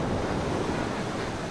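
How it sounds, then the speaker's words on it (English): Steady broadband roar of ocean surf breaking along a coast where seals and penguins gather, loud and continuous with wind noise mixed in, no voices. "By midday, the surf is up again"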